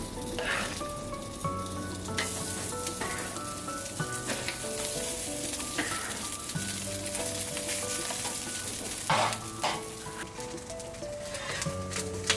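Chopped pieces of kokorec fry in a pan with a continuous, close sizzle and occasional louder crackles, while music plays in the background.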